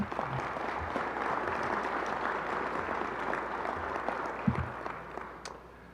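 A room full of people clapping, steady applause that holds for several seconds before gradually tapering off.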